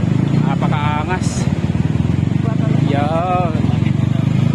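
A motorcycle engine hums steadily beneath clear, close talking during a test ride, its tone rising and falling a little as it runs.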